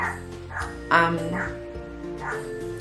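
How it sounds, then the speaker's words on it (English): Dogs barking outdoors, a few distant yaps and woofs spread across a couple of seconds, faint and muffled as if heard through a window, with indoor room tone underneath. "Sorry, there are dogs outside."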